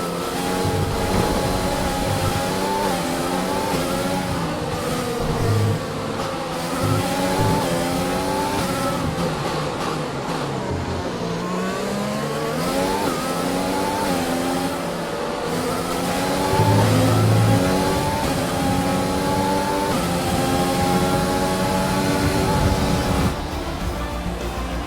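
An F1 2020 race car in the video game speeds up after a caution at the Australian Grand Prix in Melbourne. Its engine note climbs through gear after gear in a loud, continuous, high-pitched whine with no talk over it.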